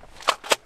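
Two quick gunshots from duck hunters' shotguns crack out in close succession, fairly distant and muffled outdoors.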